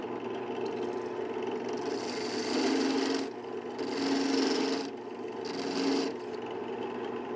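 A wooden pen blank is trimmed down to its tube on a steadily whirring machine, the cutter biting in three separate passes that swell louder and brighter before easing off, with no talk.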